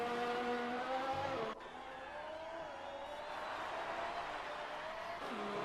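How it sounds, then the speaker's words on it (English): A race car circulating on track during the Australia round of a race, its engine a steady mid-distance drone with a brief gear-shift dip, under faint commentary. "As you can see, as Connor is trying to warm up his tyres, Alco is closed the gap a little bit"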